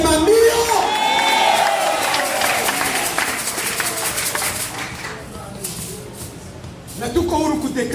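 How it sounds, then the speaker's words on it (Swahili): A church congregation claps and cheers loudly at first, the applause and shouting fading gradually to a murmur before a voice rises again near the end. "Chapa makofi, sema ndio."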